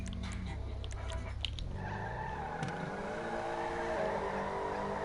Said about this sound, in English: let's go ahead and take Bradley's car for a spin so you guys can see what exactly I'm talking about here